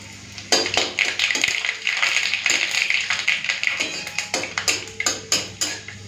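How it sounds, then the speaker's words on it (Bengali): Black mustard seeds and dry red chillies are tempered in hot oil, with a steady hiss and a quick irregular run of sharp pops and crackles, close and loud. "এখন ফোড়নে দিচ্ছি কালো সর্ষে আর শুকনো লঙ্কা।"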